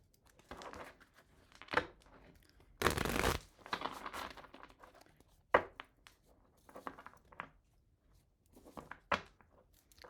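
Tarot cards being shuffled by hand, giving soft papery riffles and crinkling bursts with a few dull thunks, close and fairly quiet, with no talking.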